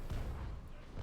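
Cannon broadside from a sailing warship in Naval Action, shallow waters of the Great Bahama Bank: a dense, low rumbling roll of distant gunfire, with booms blurring together for a second under a steady wash.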